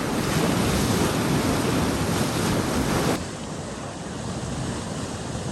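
Water roars loudly through the Victorian gravity-fed Garreg Ddu dam at the reservoir, a constant close-up rush that drops slightly in level partway through and then continues steadily.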